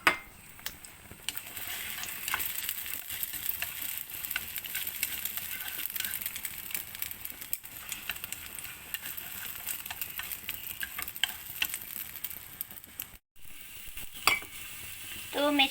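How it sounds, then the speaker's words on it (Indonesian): Garlic sizzles steadily in a hot pan as it is sautéed, a continuous bright frying hiss with occasional scrapes and clinks of a utensil stirring against the pan, close and without talk. "Tumis bawang putih guys"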